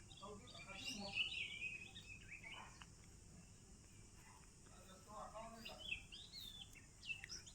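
Birds chirp and call in a farmhouse garden near Badlapur on a quiet morning, with scattered high calls over a steady insect drone and soft background hum.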